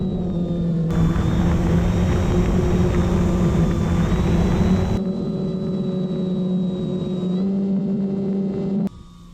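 Electric motor and propeller of an RC airplane carrying two cameras, flying low and slow in wind: a steady, loud droning whine with a rising pitch partway through, continuous for the whole span and cutting off sharply near the end.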